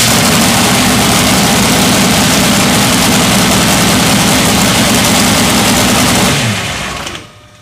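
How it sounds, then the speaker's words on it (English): A racing engine fitted with a Clear View oil filter runs loud and steady at the pits, a dense continuous roar that winds down and cuts off near the end. "Okay, we're going to start the engine."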